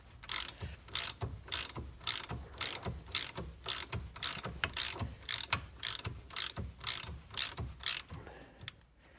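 A ratchet wrench repeatedly clicks in rapid bursts while undoing a steering rack fitting on a Lancia Delta Integrale, about a dozen even, close strokes with brief pauses between, no talking.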